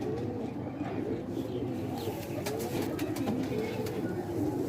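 Black-tailed pigeons with purple feet coo in a loft, repeated soft rolling calls overlapping close by, with scattered wing flutters and light clicks in the background.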